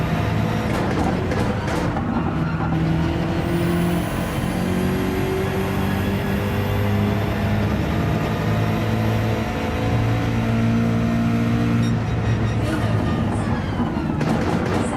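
A Gran Turismo 7 race car, either Gr.3 at Maggiore or Gr.4 at Autopolis, holds its engine at full throttle with a steady, loud, droning roar. The pitch shifts slightly as it runs, with faint background noise throughout.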